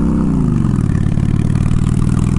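A Honda Shadow motorcycle engine runs loud and close with a steady, throbbing low rumble, rising slightly in pitch at the start and then holding even.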